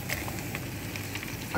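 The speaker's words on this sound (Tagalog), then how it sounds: "lalagyan na po natin yung ating ampalaya" Bitter gourd (ampalaya) hits a pan of browned onion and garlic, giving a brief, soft, steady sizzle with light stirring clicks and no talking.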